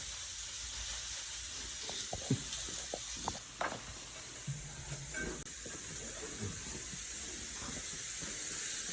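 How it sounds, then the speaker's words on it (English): Onions frying in a skillet for chili, a steady soft sizzle and hiss with occasional scrapes and taps of a whisk stirring them around, fairly quiet and without speech. "I'm going to go put the rest of these onions in there and whisk it around"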